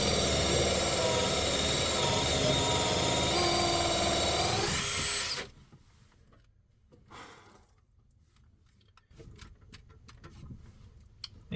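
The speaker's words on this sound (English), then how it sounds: "This drill bit sort of burned its way through the van last time." A power drill grinds loudly and steadily through the metal of a box van for about five seconds, then stops abruptly. Quiet handling noises and a few scattered clicks follow.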